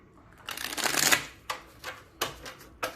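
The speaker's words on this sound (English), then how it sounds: "So I'm going to pull these cards from these, and let's see what comes up." Tarot cards pulled from a deck and handled, a dense riffling burst followed by several separate crisp card slaps and flicks, close and fairly quiet with no talking.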